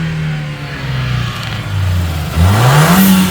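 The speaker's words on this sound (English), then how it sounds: "I can already hear, even in park, that the internal blow-off valve has something to release now" A 2014 Ford Escape turbo engine revs up strongly while parked, its pitch rising and falling steadily at close range, with a whooshing release from the internal blow-off valve as revs build, with no talking.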